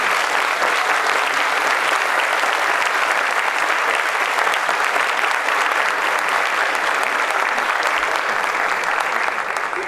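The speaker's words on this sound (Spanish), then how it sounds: "pido un aplauso para ellos." Sustained audience applause at a university forum on polluted rivers and climate change in the Dominican Republic, dense steady clapping from a large crowd lasting throughout, loud and even.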